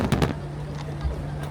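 Nagaoka phoenix fireworks burst over the Shinano River at night: a quick cluster of distant booms in the first moments, then a low steady hum with a voice over it.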